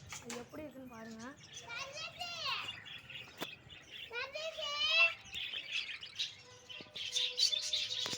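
Sparrows at a backyard sparrow setup chirp and tweet in quick bright bursts, with children talking and playing close by throughout.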